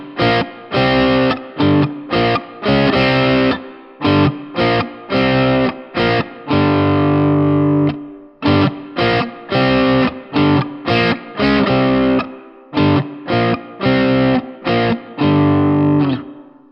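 Distorted electric guitar plays a riff in two-string dyads, loud chunky stabs in the familiar stop-start rhythm with brief gaps and longer held chords, no voices.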